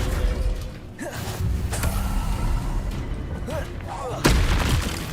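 Descendo spell slamming a target down in Hogwarts Legacy, heavy booming thuds and creaking impacts amid ongoing game noise, with a sharp louder hit near the end and voices in the background.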